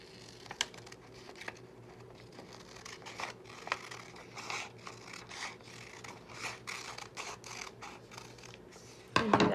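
Scissors snip through paper while cutting out a ring for a third-grade self-portrait craft, giving a series of soft, close crisp cuts and rustles, with louder paper handling at the end.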